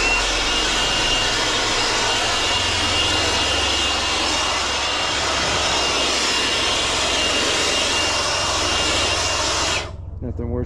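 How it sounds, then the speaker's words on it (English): A large helicopter flies nearby, its loud, steady engine and rotor roar filling the whole stretch before cutting away abruptly near the end. "Where's that helicopter? I'm gonna look for that guy. It sounds like a big one."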